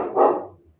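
A single dog barks once, close and loud, a short low woof that fades quickly.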